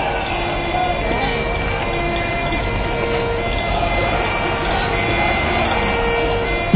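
Police vans driving out across a castle square during a street reenactment of martial-law events, with a loud, steady engine rumble and broad roadside noise holding at one level throughout.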